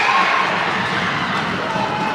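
A crowd at a 16U AAA youth ice hockey game cheers a goal with a steady, loud roar of shouting and yelling that fills the rink throughout.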